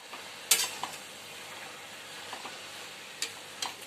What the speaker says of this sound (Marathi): चला थोडी भाजी टाकून मस्तपैकी परतून घेतली